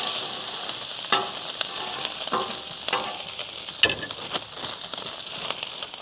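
Carne asada sizzles steadily on a Weber Slate 36-inch griddle outdoors, a continuous close frying hiss broken by sharper crackles and scraping clicks as the meat is moved around.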